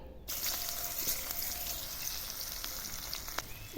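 Finely chopped onions fry with panch phoron five-spice seeds in a pan for a spinach dish, producing a steady close hiss and crackle after they drop into the hot oil, with no voices.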